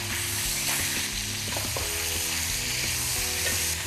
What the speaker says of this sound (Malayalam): അടുത്തായി നമുക്ക് വീണ്ടും ഒരു 5 മിനിറ്റ് നേരം കൂടെ ചിക്കൻ നമുക്ക് ഗ്രില്ല് ചെയ്തെടുക്കാം